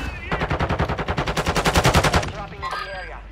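Rapid automatic gunfire in Call of Duty Warzone on Ashika Island, a loud close burst of evenly spaced shots lasting about two seconds before trailing off, with a voice briefly heard near the end.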